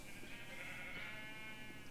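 A sheep in the Minecraft video game gives a brief, faint bleat, a thin wavering cry standing alone without any talk over it.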